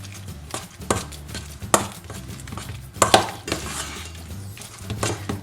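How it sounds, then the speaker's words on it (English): Beaten egg being mixed into mashed potato in a bowl, a spoon clinking and scraping against the bowl in irregular taps and knocks, close and fairly loud, no voices. "Now you will add an egg, one beaten egg, and first you just mix it well."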